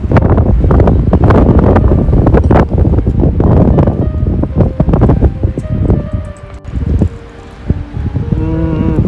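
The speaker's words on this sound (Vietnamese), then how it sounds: "Hôm nay đến đây gió rất là to các bạn nhé, gió rất là to." Strong outdoor wind buffeting the microphone near a stadium in Saitama, Japan, a loud continuous roar with gusty rumbling bursts and rustling, easing briefly before picking up again.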